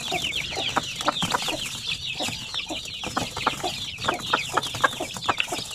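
Several hens cluck and chatter close by, with bursts of busy clucking rising and falling over a soft background of chirping chicks.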